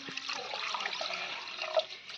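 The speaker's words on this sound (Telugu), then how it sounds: "నీళ్ళు" Water pours into a pressure cooker holding mutton for haleem, a soft continuous splashing hiss that ends with a sharp metallic clank.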